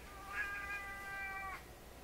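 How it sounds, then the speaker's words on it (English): A senior tabby cat gives a single drawn-out meow lasting over a second, close by but fairly soft, in an otherwise quiet indoor room. "My senior cat has come to join me."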